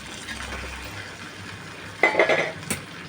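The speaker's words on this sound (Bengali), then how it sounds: "এবার আমি এই মাছের মাথা মাথাগুলো দিয়ে দেবো" Katla fish heads dropped into a pan of cooking vegetables and slit green chillies for a Bengali puin shak chhyanchra, giving a short burst of clattering, sizzling contact with the pan midway, then a single sharp clink.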